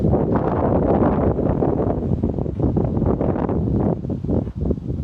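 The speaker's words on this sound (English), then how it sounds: "Wind's getting a little bit stronger now." Strong wind gusts buffet the microphone on a golf course during hickory club testing, a loud, rough continuous rumble with fluttering surges that ease slightly toward the end, no talk.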